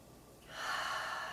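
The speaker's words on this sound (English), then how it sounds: "take a breath" A single audible inhale drawn during a gentle shoulder stretch, a soft breathy rush rising halfway through and held briefly, close and quiet with no talking.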